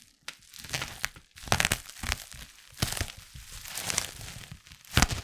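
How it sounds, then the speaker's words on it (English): Box tape on a Dying Light unboxing being sliced and torn open: rough crinkling rips and scraping bursts come in uneven spurts for about five seconds, close and fairly loud, with short pauses between strokes. "Cut the tape here."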